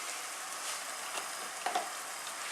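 Mince browning with diced brown onion, garlic, carrots and peas for a homemade shepherd's pie, giving a steady, fairly quiet sizzle with a couple of small clicks of stirring near the end.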